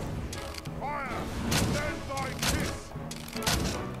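Triad Shot bow attack in Dragon's Dogma, a fantasy action game, firing repeated bursts of arrows with sharp impacts over in-game ambience, a voice also heard amid the volley.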